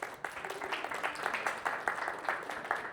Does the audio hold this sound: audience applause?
yes